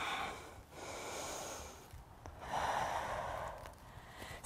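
Steady yoga breathing during a seated twist pose, with long broadband inhales and exhales rising and falling close to the mic, a louder airy breath in the second half, no talking.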